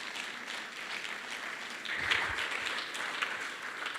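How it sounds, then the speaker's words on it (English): An audience at a Seattle event gives a moderate round of clapping that swells slightly midway, a soft, diffuse patter of hands heard from a little distance, with no speech over it. "I think that deserves a round of applause."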